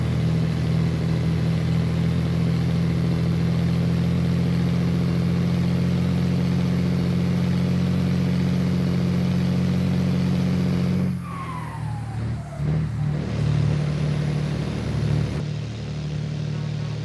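A Scania 112 truck engine drones steadily as it climbs a grade in Euro Truck Simulator 2, a loud sustained low hum that briefly dips and shifts partway through, with no speech over it.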